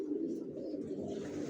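Racer pigeons coo in a continuous low, throaty burble close by, with soft, overlapping calls running steadily through the moment.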